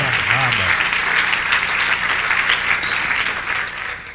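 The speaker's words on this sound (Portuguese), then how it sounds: "vamos dar um aplauso a nosso Rei de Reis" A church congregation applauds during a worship service with a dense, sustained wash of clapping from many hands that lasts throughout. A voice is heard briefly near the start.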